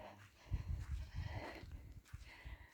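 Goats bleat in a loose cluster of overlapping calls, close by, with a low rustling farmyard background.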